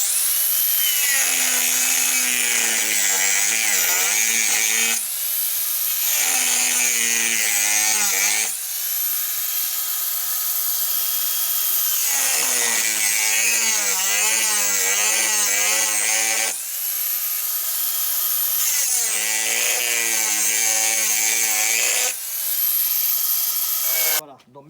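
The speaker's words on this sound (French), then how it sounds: "Voilà, donc maintenant je prends la scie" Hand saw rasping through the plastic tub of a washing machine near the shock absorber mounts, steady back-and-forth strokes in long runs broken by short pauses, loud and close with no talk.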